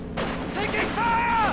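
Machine-gun fire and battle noise in the real-time strategy game Company of Heroes 2, a dense, continuous rattle of distant gunfire with whistling effects, mixed low under game audio.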